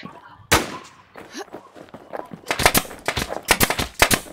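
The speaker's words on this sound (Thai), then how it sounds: "อาจจะยิงปืนนัดนึงอ่ะก็แล้วแต่เลย" Rapid bursts of video game gunfire crack close and loud, with a single shot early on and then clustered volleys of sharp reports.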